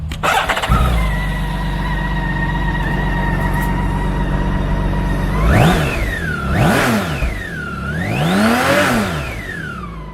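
A 2012 BMW K1600GTL Premium motorcycle fitted with a trike kit idles with a steady loud hum, then revs sharply three times, each rise and fall of the engine close and clear with no talk.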